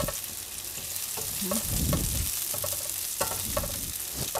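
Ingredients being sautéed in a pan, with a loud, continuous sizzle and frying crackle under repeated scraping stirs.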